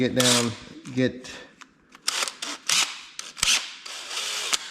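Screws being taken out of the engine casing of a wrecked Kawasaki Ninja motorcycle: sharp metallic ratcheting clicks and short tool bursts come close and loud, with brief pauses and a voice heard at the start.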